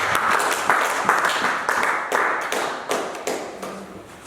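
A church congregation applauds in steady rhythmic clapping, a dense crowd of hands filling the room at close range, with scattered voices mixed in beneath the claps.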